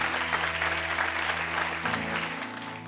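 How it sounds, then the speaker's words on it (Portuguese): A church congregation applauds during a worship service with strong, full clapping over sustained keyboard chords that shift partway through, the applause easing toward the end. "Dê um aplauso bem forte a Deus."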